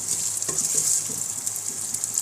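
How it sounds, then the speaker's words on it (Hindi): Potatoes fry in hot oil for a Lahori chickpea curry, giving a steady, close hissing sizzle with a few soft stirring scrapes. "आलू को भी अच्छी तरह से भूनना है,"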